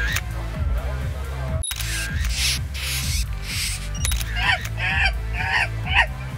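A camera shutter clicks as photos are snapped at a party, including group shots and selfies. The crisp clicks sit over steady, rhythmic background music.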